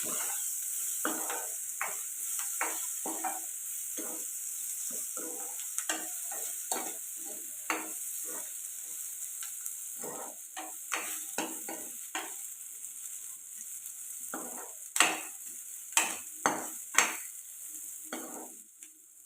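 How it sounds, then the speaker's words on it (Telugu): Cashews fry in a pan on the stove for an egg curry masala, giving a soft, continuous sizzle broken by repeated scrapes and clinks as a spoon stirs them, louder toward the end. "జీడిపప్పులు వేసుకున్నాం ఇవి కూడా కలుపుకొని ఫ్రై చేస్తాను"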